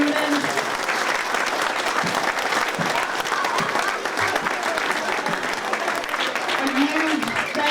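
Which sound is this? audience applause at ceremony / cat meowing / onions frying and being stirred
audience applause at ceremony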